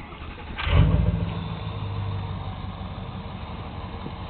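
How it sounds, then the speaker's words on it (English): A 2005 Ford F350 with a 5-inch Diamond Eye exhaust and 6-inch chrome tip starts with a sharp burst, then settles into a deep, steady idle rumble close by. "bringing you a 2005 Ford F350 with a 5-inch diamond eye exhaust system"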